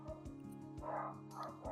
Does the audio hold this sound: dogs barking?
yes